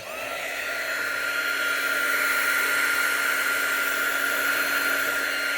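A heat tool blows steadily to shrink quarter-inch (6 mm) heat shrink tubing onto a Sparrows Monkey Paw lock pick, giving a loud, continuous, even whir with a fixed tonal hum and no talking.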